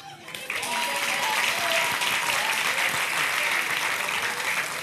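A stand-up comedy crowd at a festival show in Douala breaks into loud, sustained applause that swells in quickly after a brief quieter moment and holds steady, dense and close.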